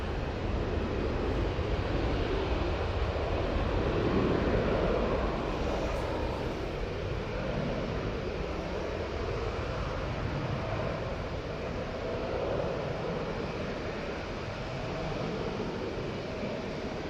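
A passenger airplane departs Manchester Airport bound for Palma de Mallorca, a broad steady roar of jet engine noise sustained throughout, swelling slightly mid-way and mixed with wind buffeting on the microphone.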